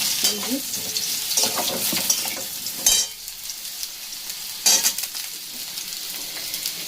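Taro pieces frying in a pan, a steady broadband sizzle with clattering stirring strokes from a utensil, including sharper scrapes near the middle and toward the end, heard close and alone without any voices.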